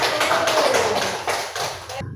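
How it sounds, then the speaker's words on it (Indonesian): A classroom of elementary pupils gives a steady burst of applause for the first group, a dense, even wash of clapping that lasts about two seconds before stopping abruptly. "Beri aplaus untuk kelompok 1"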